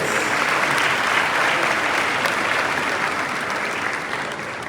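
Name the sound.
audience applause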